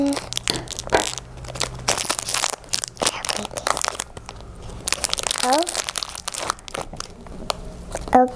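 LOL Surprise toy packaging is cut open with scissors, giving close crinkling, crunching and tearing of plastic and paper in irregular bursts while a voice talks over it.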